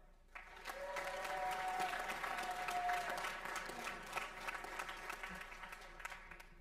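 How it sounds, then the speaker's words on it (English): An audience at a spring sports awards ceremony claps for the team managers in a sustained, dense round of applause, with a faint whistle early on, fading slightly toward the end. "let's give them a round of applause, guys"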